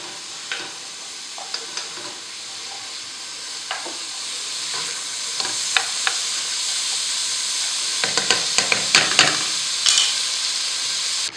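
Vegetables sizzle and steam in a pan for a bouillabaisse, with a soft continuous frying hiss broken by scattered scrapes and clicks of stirring, busier toward the end.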